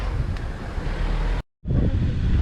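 Steady, rough, cold wind buffeting a microphone outdoors on Tibidabo mountain in Barcelona, briefly cutting out for a moment before the blustery rush resumes.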